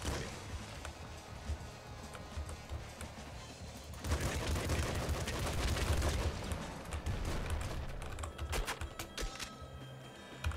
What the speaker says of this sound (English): the bandits are getting trigger happy. I swear they shoot more when they're in a group